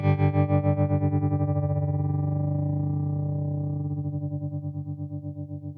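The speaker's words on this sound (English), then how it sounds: "if you press and hold the same thing when the pedal's on, it will ramp up the rate slowly and then ramp it back down when you let go" Walrus Audio Monument tremolo pedal on a sustained guitar tone, its pulsing rate slowly ramping up and then back down, steady and loud with no talking.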